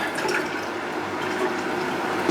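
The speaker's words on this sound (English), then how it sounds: "It's a little messy, so we're going to rinse our hands." Running water pours steadily from a kitchen tap as hands are rinsed under it, a continuous close splashing wash with no voices.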